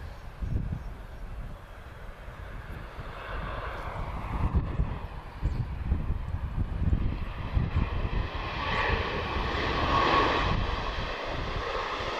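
A Boeing 737 MAX jet airliner at Lisbon Airport gives off a steady, broad engine roar that swells gradually and stays loud throughout, with some wind rumble underneath.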